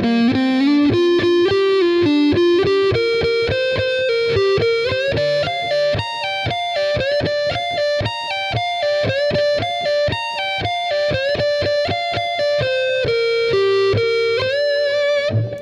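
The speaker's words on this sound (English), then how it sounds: "the first four measures of that solo, really slow, will sound like this." A distorted electric guitar plays the opening measures of a guitar solo slowly, with bent and sustained notes over steady picked accents, loud and up close with nothing else heard.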